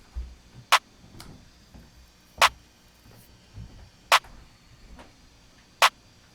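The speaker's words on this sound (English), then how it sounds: "I added a basic clap." A basic clap sample from a trap beat hits four times at an even, slow interval, sharp and crisp, with soft low rumble in between and no talking.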